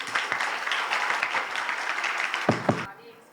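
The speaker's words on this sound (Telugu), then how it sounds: "క్లాప్స్." Applause from an audience at a school Women's Day celebration, a dense sustained round of clapping that ends with a few louder claps before cutting off.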